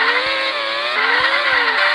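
Formula 1 cars racing in a video game at the German Grand Prix scream past with high engine notes that rise and shift through gears, with brief tire scrubs underneath and no voices.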